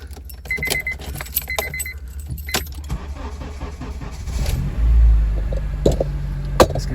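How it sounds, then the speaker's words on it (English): Keys jingle near a 2006 Honda CR-V before its engine cranks and catches, a low rumble surging briefly then settling into a steady idle with a few clicks and knocks. "car goes on."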